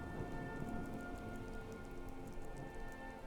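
Steady rainfall in the video game Skyrim, a continuous patter of drops hissing evenly throughout, with faint tonal game music underneath and no voices.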